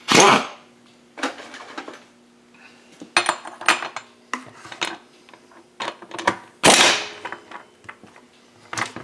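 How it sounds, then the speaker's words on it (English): An impact driver works on the reverse-threaded part of a Husqvarna 365 chainsaw in short, sharp, rattling bursts separated by pauses, close and fairly loud. "with an impact driver. Just enough so when I try to start it, it won't come flying off of there"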